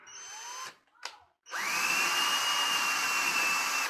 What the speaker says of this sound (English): We pre-drill the hole.